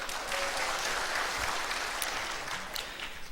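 A church audience at a Christmas service bursts into brisk, dense applause, steady and fairly close, filling the whole moment without talk.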